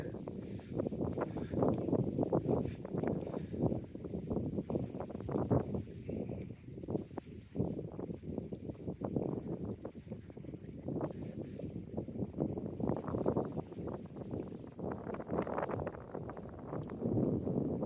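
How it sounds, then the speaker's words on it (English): Steady wind buffets the microphone throughout in Wigtown, a low rumbling roar with gusty surges that swell and ease. "It's a bit of a windy one."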